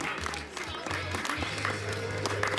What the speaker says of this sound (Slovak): Veľký potlesk, gratulujeme.